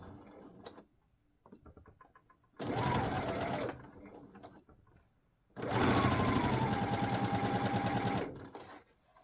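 A sewing machine stitches dress seams in two bursts, a short one and then a longer, steady run of about three seconds, close and clear, with quiet handling noises in the pauses.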